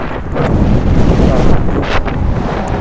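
Strong wind buffets a microphone on a bridge where Queens meets the East River, a loud continuous rumbling roar with gusty surges throughout and no voices.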